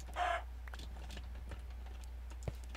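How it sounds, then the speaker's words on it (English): A chicken in modded Minecraft gives a brief, fairly loud cluck near the start, followed by quieter game noises and a faint click later on. "Chicken! Move! Where did you even come from?"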